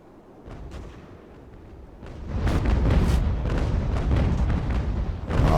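Sailing-ship cannons fire chain shot in the naval battle game Ultimate Admiral: Age of Sail, a string of deep booms and cracks that swell from a low rumble into a dense, loud volley, with no talking.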